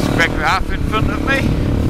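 A 450 rally motorcycle accelerates hard on a sandy trail, its engine rumbling steadily underneath someone talking over the top.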